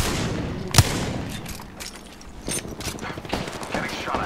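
Gunfire crackles in the video game Apex Legends during a ranked match, with one sharp close shot followed by scattered distant bursts amid game noise and speech.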